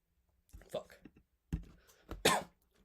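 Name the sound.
coughing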